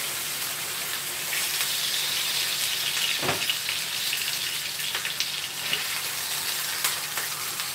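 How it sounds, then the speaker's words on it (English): Chicken sizzles steadily in a hot pan, a constant frying hiss with a sharper pop or spatter partway through and no talking. "You know when that pan's nice and hot, when you get that sizzling sound."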